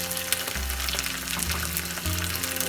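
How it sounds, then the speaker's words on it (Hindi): Green onion bulbs frying in a pan, a steady loud close sizzle with a low hum underneath, with no talking. "इसे हमें ज़्यादा फ्राई नहीं करना है।"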